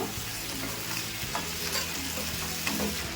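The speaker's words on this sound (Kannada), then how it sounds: "ಟೊಮೆಟೊ ಮೆತ್ತಗಾಗಂಗೆ ಫ್ರೈ ಆಗಬೇಕು, ಅಲ್ಲಿ ತನಕ ಫ್ರೈ ಮಾಡ್ಕೋಬೇಕು" Tomatoes and green chillies frying in oil in a pan for a dosa topping, a loud close sizzle with occasional stirring scrapes and no talking.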